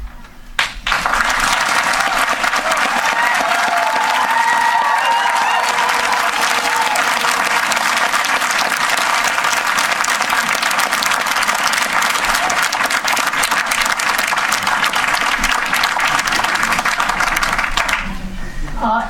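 Loud, sustained audience applause fills a town board meeting, with many hands clapping continuously for nearly twenty seconds before cutting off abruptly.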